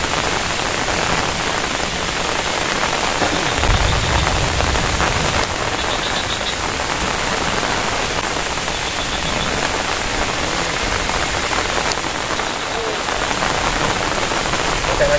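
Heavy rain pours down at a campsite as a dense, unbroken hiss of drops on surfaces, loud and steady throughout, with no clear speech.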